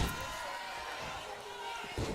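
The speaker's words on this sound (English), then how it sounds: "Big splash." A wrestler's big splash in the WWF Wrestling Challenge video game lands as a dull body slam thud near the end, under steady commentator talk and a low crowd-like background.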